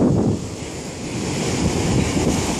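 Ocean surf washes up a Bali beach, a loud, close rush of breaking water mixed with heavy wind buffeting the microphone, swelling and easing over a couple of seconds.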